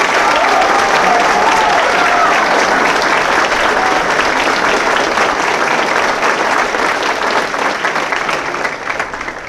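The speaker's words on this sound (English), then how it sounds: "Please join me in a well-deserved round of applause for our Marine drill instructors and the families that support them." Audience applause for Marine drill instructors and their families at a graduation ceremony, a loud, dense wash of clapping that holds steady and eases slightly near the end.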